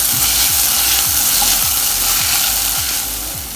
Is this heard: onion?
yes